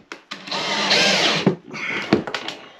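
Power drill pre-drilling holes for lights in a camper under conversion, a few short whirring bursts close by with brief pauses between.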